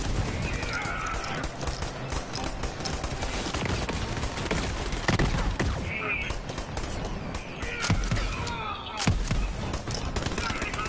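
Repeated gunfire in a video game, with bursts of sharp shots scattered over steady game ambience and music. Voices talk throughout.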